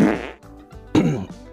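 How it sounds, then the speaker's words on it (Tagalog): Two short, loud, close bodily farts, separated by a brief pause, with no talk over them. "Pagpasensya nyo lang kung narinig nyo yung utot ko."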